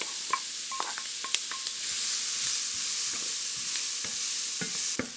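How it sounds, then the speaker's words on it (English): Chopped onions go into hot oil in a pan with a close, steady sizzle and hiss that swells partway through. A few light clicks and stirring scrapes sit on top of it, with no talking. "Looks like we've got enough oil in the pan, so in with some chopped onions."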